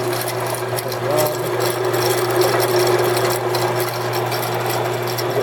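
An ENCO 7x12 horizontal band saw with a four-speed belt drive runs steadily, giving a constant close motor hum with a light whirring blade and faint mechanical rattle, unchanging throughout.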